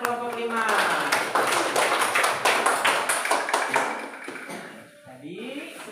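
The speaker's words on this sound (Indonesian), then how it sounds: "Tepuk tangan untuk kelompok 5." A classroom group claps for group 5 after their presentation, with quick, scattered clapping and a few voices talking over it.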